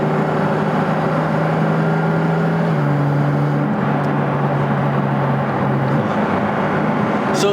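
Porsche GT4 RS engine drawing in air with a loud, steady intake roar and droning tones that shift pitch partway through, heard from inside the car with no talk.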